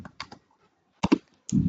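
A name being typed on a computer keyboard, a few quick separate key taps in two short bursts, then a heavier press, close and crisp with silence between.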